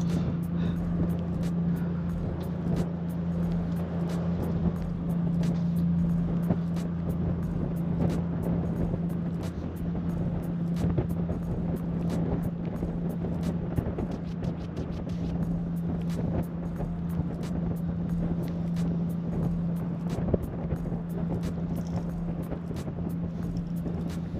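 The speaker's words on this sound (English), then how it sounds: "what's that boat going back and forth?" A boat motor drones steadily throughout as the boat passes back and forth, a constant low engine hum with faint ticking and splashes, heard from a moderate distance.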